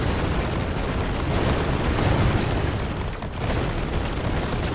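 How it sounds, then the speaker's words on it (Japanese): Bouncing shots explode in the video game Greedland, a dense, continuous rumble of blasts and booms that stays loud throughout with a brief dip near the end, no talking. "やっぱ跳ね返り先で爆発してる"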